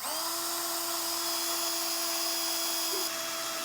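A drill bores a pilot hole with a smaller bit through several layers of pressed sheet metal on a 2020 Jeep Wrangler, giving a steady, loud high-pitched whine that holds unbroken for several seconds, close up.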